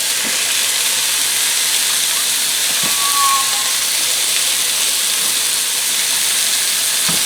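Ground beef sizzles loudly and steadily in a hot pan, a constant broad hiss with faint crackles and an occasional soft clink of a utensil.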